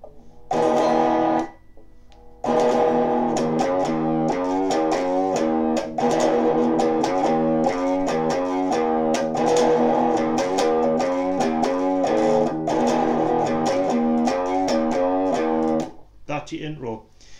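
Distorted electric guitar plays an intro riff, with loud, sustained chord stabs that run almost continuously after a short opening burst and a brief gap, then stop near the end.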